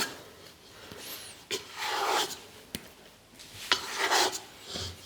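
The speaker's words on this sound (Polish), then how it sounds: "Zeskrobujemy tam resztki, żeby nic nie zostało." Scraping of leftover toast-bread dough from a baking tin, a series of close rasping strokes in short bursts with brief knocks between them.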